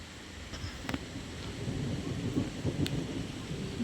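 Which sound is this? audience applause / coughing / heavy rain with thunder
heavy rain with thunder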